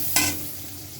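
Onions sizzle and fry in mustard oil, with a sharp stir or splash near the start followed by a steady, soft crackling hiss, no voices.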